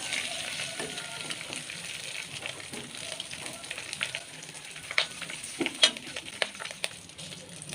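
Pork fries in oil in a pan for adobong baboy with squid, giving a continuous soft sizzle and crackle with occasional sharper pops and stirring scrapes.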